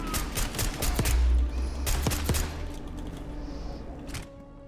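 Gunfire from the video game Call of Duty: Black Ops 6: a short flurry of sharp, loud shots with echoing booms, which then thins out into quieter, scattered cracks.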